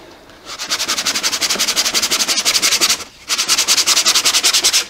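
Hand-sanding wooden rectangle stackers: rapid rhythmic back-and-forth rasping strokes, close and loud, in two bursts separated by a short pause.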